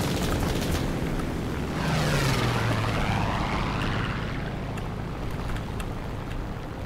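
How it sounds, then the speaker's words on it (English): A bomber's propeller engines drone loudly in War Thunder, a continuous heavy roar with a rising and falling whine as the aircraft passes close by, no voices. "Oh shit, that's a bomber."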